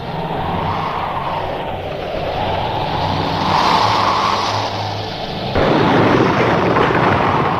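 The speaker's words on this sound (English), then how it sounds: "The blast wave travels at about the speed of sound." A nuclear blast wave passes in a 1957 atomic-war training film as a sustained, loud rushing roar with a low rumble, swelling and easing, then surging sharply louder near the end.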